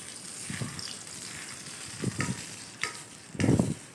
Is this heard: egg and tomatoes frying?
yes